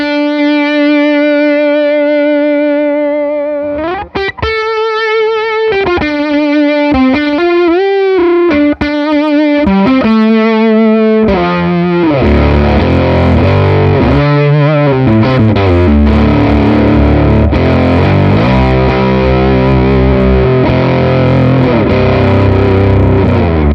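Electric guitar through a fuzz pedal with the gain cranked, opening with sustained held notes, then shifting into dense, heavily distorted chugging and chords with thick saturation and long sustain.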